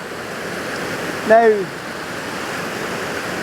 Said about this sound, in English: So there's two waterfalls above this waterfall.